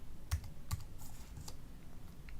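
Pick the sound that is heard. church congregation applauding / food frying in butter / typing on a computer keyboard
typing on a computer keyboard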